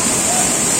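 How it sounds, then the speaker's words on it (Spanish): Waterfall at a tourist spot in La Unión, Chicaña, Yantzaza: a steady, loud, even rush of falling water filling the whole moment, with no clear voices over it. "Aquí está la cascada."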